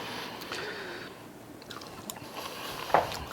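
Someone takes a quiet taste of creamy homemade potato salad, giving soft, close chewing and squishing mouth sounds with a faint bite near the end, with no talking.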